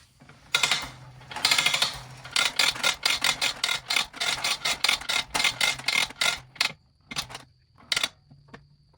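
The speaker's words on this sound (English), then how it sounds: "I'm gonna go ahead and pull this hose pretty much all the way out and then retract it, let you guys see how that works." A retractable air hose reel pays out and rewinds its hose, producing a rapid series of loud ratcheting clicks, then a few slower spaced clicks as it stops, close by and without talk.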